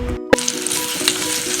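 Ginger, garlic, onion, chilli and curry leaves hit hot oil in a pan for a prawn curry with kudampuli, giving a brief steady sizzle with a sharp clink near the start, close and without voices.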